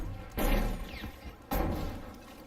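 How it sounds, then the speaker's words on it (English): Battlefield 5 battle explosions, two heavy booming blasts about a second apart, each a sudden loud burst that rumbles and fades, with no voices. "look at the volume of explosions and fire going off in this direction"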